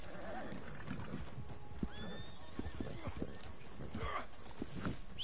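In Red Dead Online, a called-in horse arrives with clip-clopping hooves and a clear whinny, heard over rustling outdoor ambience with voices talking alongside.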